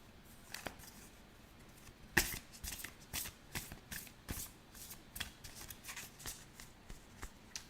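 Tarot cards shuffled by hand at close range, a run of soft riffling flicks and slaps in an irregular rhythm with a sharper snap near the start, no speech.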